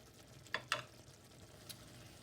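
Aubergine curry sauce simmering in a pan gives a faint, steady low sizzle, broken by two quick scrapes of a stirring spoon near the start and one more a little later, with no talking.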